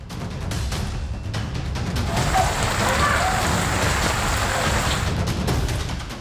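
Heavy monsoon rain in Mumbai pours in a constant, hissing wash, close and loud, with a low rumble underneath.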